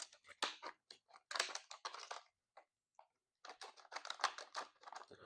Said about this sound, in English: any molded plastic, I like to open it up with tin snips, so makes it a lot easier to open